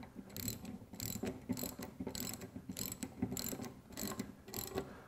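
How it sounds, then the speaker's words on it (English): A ratchet cranks an exhaust pipe expander tight inside a pipe, giving quick, close clicking bursts in an even back-and-forth rhythm of about eight strokes, with no one talking. "Then use a ratchet to get it tight."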